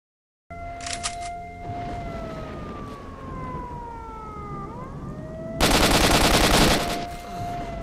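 Gunfire in the STALKER video game: a loud, dense burst of rapid automatic shots near the end, over a game soundscape with siren-like gliding tones and a few earlier sharp bursts.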